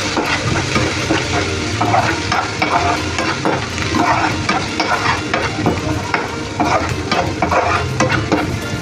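Red masala, coriander powder and garam masala sauté in a pan for a spiced bottle-gourd dish, with loud close sizzling and a constant run of spoon scrapes and stirring clatter.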